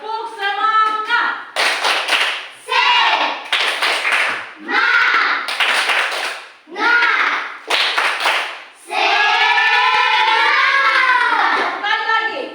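Group 'tepuk semangat' clapping in Indonesia: bursts of loud, rhythmic hand claps from many people alternate with shouted, chant-like voices in a repeating pattern.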